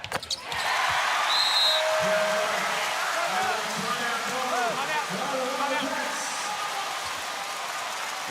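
Steady roar of a basketball arena crowd at an NBL game between the Tasmania JackJumpers and Perth Wildcats, with a ball bouncing on the court and a voice under the broad crowd hiss.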